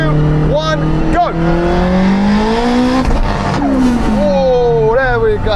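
A 1,000hp all-wheel-drive Honda and a Porsche 918 Spyder in a rolling half-mile drag race from third gear. Engines scream loud and near, their pitch climbing steadily, with sharp drops at gear shifts and a brief tyre-squeal-like edge.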